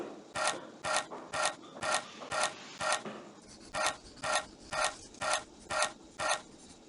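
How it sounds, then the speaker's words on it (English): Screwdriver animation sound from the 1998 PC game Tonka Workshop, attaching doors to a toy gate: a steady run of about twelve evenly spaced ratcheting bursts, close and clear with no talk. "Use the screwdriver to attach the doors to the gate opening."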